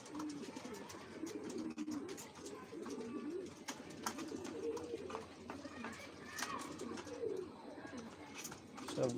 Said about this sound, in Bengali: মুসাল্লাম কবুতরটা আসছে ওইরা